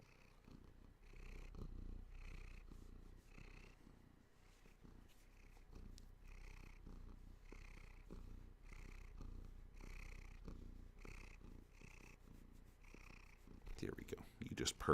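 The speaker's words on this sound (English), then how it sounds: "he's just purring away" A cat purrs softly and steadily up close in a slow, regular rhythm of breathy pulses, faint throughout, with a rustle near the end.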